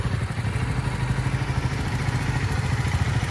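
A motorbike engine runs steadily after being started, a close, continuous low throbbing rumble with slight clatter and no talking.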